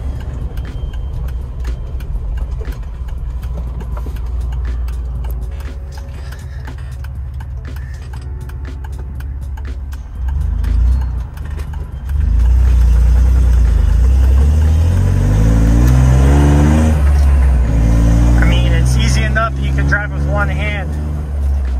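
An old car engine idles and then revs in a garage, its low rumble rising into several loud bursts of rising and falling engine pitch in the second half.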